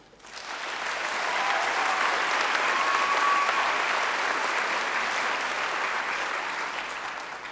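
A large audience applauds at a university commencement ceremony, a broad, steady wash of clapping that builds quickly, holds strongly for several seconds and tapers slightly at the end.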